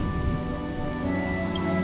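Steady rain falls in the video game Honkai Star Rail, a dense even patter on surfaces that continues without a break, with a low background drone and no voices.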